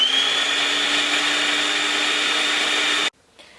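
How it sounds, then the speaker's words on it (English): A food processor blitzes lamb kofta mixture with a steady high whirring motor drone for about three seconds, then cuts off abruptly into near silence. "I'm going to switch it on now and blitz it"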